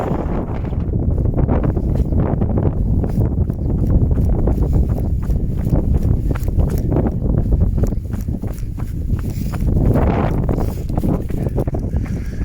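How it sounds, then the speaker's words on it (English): Strong wind buffets the microphone in loud, irregular gusts on a hilltop of the West Pennine Moors, with a fell runner's footsteps crunching along underneath. "It's going to get a bit windy now."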